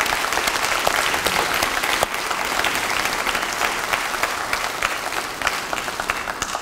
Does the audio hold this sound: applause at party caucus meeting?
yes